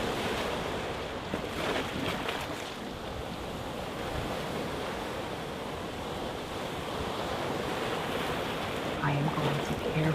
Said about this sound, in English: At this time as we sit and listen to the ocean.